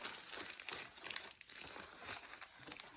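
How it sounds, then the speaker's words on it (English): Tape being folded and crinkled by hand while shaping a nose, mouth and teeth piece, giving a quiet, continuous crackling rustle with small irregular bursts and no talking. "I'm able to go around easier with the tape and fold it"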